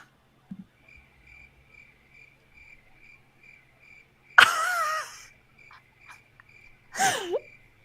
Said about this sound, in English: There's so many crickets.